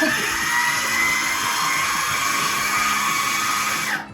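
A food processor whirring cookies into crumbs for a chocolate peanut butter pie, a loud steady motor whine running continuously before cutting off abruptly at the end.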